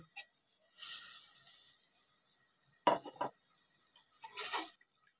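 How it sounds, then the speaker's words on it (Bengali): Turmeric, red chilli, coriander and cumin powder masala frying in a pan, quiet with short bursts of sizzle and a few sharp stirring scrapes and spoon knocks against the metal. "এবার মশলাটা আমি খুব ভালোভাবে কষাই নিব"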